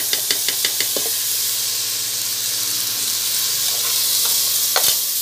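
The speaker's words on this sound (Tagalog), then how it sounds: "Halu-haluin na po natin para mag-mix sa ingredients at mag-fry ng konti" Washed rice being stirred and fried with other ingredients for chicken arroz caldo, a close, steady sizzle and hiss with a quick series of spatula knocks against the pan at the start and another clatter near the end.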